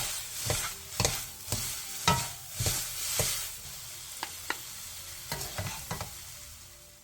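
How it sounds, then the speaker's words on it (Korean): Dried shredded pollack is stir-fried with sesame seeds, perilla oil and plum syrup, giving a soft sizzle broken by a rhythmic run of spatula strikes that thin out and grow quieter toward the end. "매실액 3분의 2스푼, 들기름 1티스푼, 통깨를 넣고 1분 정도 가볍게 더 볶아 마무리해주세요"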